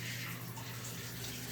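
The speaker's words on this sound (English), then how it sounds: "turn on the shower." A hotel shower in Gyeongju, South Korea, runs with a steady hissing spray of water, even and unbroken, moderately close and fairly quiet, with no talking.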